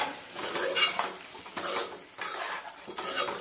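A spoon clatters and scrapes in a metal pot as spices go into gongura (sorrel leaf) chicken, with repeated close stirring strokes and clinks.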